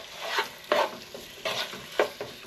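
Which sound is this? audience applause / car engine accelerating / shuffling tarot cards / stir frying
stir frying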